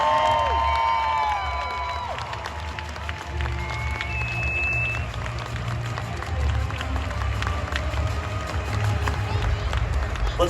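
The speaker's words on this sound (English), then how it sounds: "And a big round of applause for our trading card game Masters champion" Large crowd applauding and cheering for the Masters champion at the Pokémon Trading Card Game European International Championship, a steady dense roar of clapping sustained throughout at close range.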